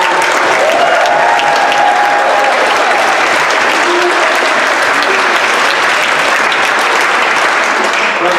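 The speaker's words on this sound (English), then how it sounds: "I feel like we got to give Mr. Bunker a round of applause" Dense, loud applause from a high school awards program audience, a continuous roar of clapping hands that fills the hall without a break for over eight seconds.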